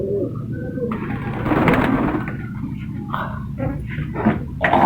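Shirazi khal pigeons in a breeder loft, several birds cooing in soft repeated calls close by, with a dog barking at times in the background.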